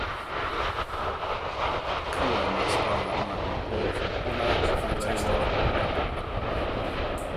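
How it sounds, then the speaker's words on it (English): Star Air aircraft on landing approach, a steady broad engine roar that holds loud and constant throughout, with crowd or ambient voices mixed in. "So here's Star Air coming in."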